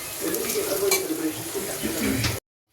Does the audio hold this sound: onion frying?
yes